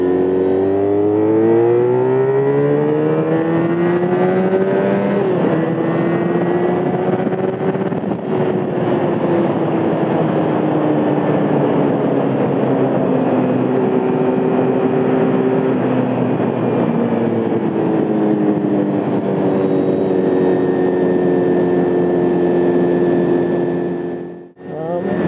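A Honda RVF400 motorcycle engine revs hard at high RPM, its pitch climbing and falling steadily and loudly for about twenty-five seconds, with a brief dip near the end.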